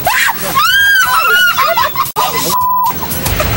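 People scream loudly and close in a staged fear demonstration, several overlapping shrieks rising and falling, then cutting off abruptly, with a brief burst of noise near the end.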